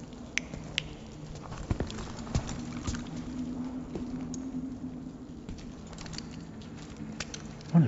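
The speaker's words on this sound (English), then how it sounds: "I can hear his footsteps" Footsteps in the Modern Warfare III video game, a string of faint, irregular soft taps over a low steady hum, with no voices.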